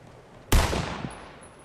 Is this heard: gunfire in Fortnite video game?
yes